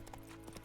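Hoofbeats of the horse Roach trotting in The Witcher 3, a steady clip-clop rhythm close by with a brief whinny-like tone, over continuous game background.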